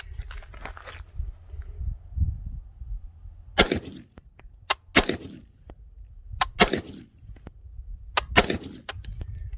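Rifle shots from an AR-15 fitted with a Vortex Strikefire II red-green dot sight at an outdoor shooting range, five sharp reports spaced about a second or more apart over low wind rumble.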